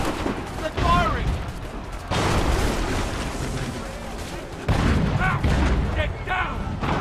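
A musket volley in the Assassin's Creed III video game: dense, crackling rounds of gunfire come in overlapping waves, while voices shout over the battle noise.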